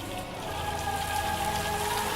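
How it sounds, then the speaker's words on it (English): Rain falling in a Doctor Who episode, a steady hiss of drops on surfaces at an even level, layered with faint sustained tonal music and no speech. "It's starting to rain."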